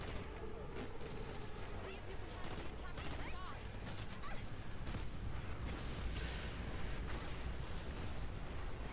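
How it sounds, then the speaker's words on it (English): Machine gun fire in the video game EDF, dense continuous rattling bursts with explosions mixed in, filling the whole stretch at a constant level, a voice talking over it. "Dang, that machine gun isn't too bad."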